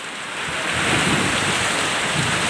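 Heavy rain pours over rice fields, a dense, continuous roaring hiss that stays loud and steady throughout, with no voices.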